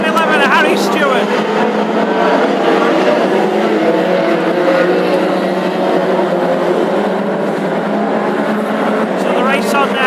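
Classic hot rod race cars roar in a pack around the oval at a national championship heat in Ipswich, engines loud and continuous with passing whines as cars sweep by, under steady announcer commentary.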